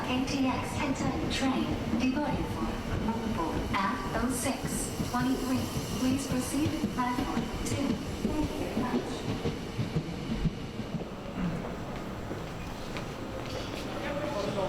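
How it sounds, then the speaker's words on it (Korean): Mugunghwa passenger train bound for Gwangju on the Daejeon line, a steady rolling rumble with faint rhythmic wheel clatter throughout, heard from aboard at moderate level. "대전선을 지난 열차는 종착역인 광주를 향해 달려갑니다"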